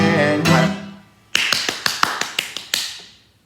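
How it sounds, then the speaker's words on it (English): A voice trails off, then a quick run of about ten sharp, close hand claps follows in an even rhythm. "I'll start it all with a hand clap"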